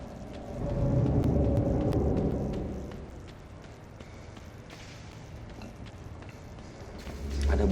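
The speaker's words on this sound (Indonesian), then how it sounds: "Ada bus di sini." Low rumbling engine of a bus in the dark puzzle-platformer game Inside, a broad steady drone that swells, eases off in the middle, then rises again near the end.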